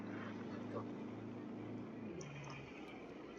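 An Opel Astra engine drones steadily in Euro Truck Simulator 2, its pitch shifting slightly as the car drives, under a quiet backdrop of game sound.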